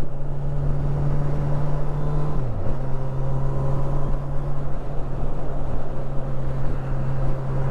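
A Honda CB1000R Black Edition street naked motorcycle hums steadily while being ridden, a sustained engine drone under wind rush that dips briefly in pitch as if shifting gear, loud and continuous with no voices.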